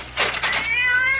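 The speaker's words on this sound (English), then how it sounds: "that damn cat!" A cat in a 1974 radio mystery drama gives a loud, close, drawn-out meow with a rising then falling wail, heard alone with no talk over it.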